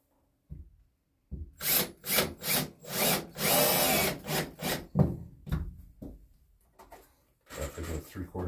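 Power drill countersinking screws into a plywood floor during an RV floor rebuild, a close whirring grind in short bursts and one longer run, with brief voice and knocks at the start.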